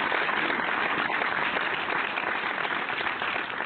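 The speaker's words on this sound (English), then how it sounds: "Let's applaud DeAndre because it wasn't a touchdown" A burst of steady, dense applause from a group of people, continuous clapping held at an even loudness throughout with no talk over it.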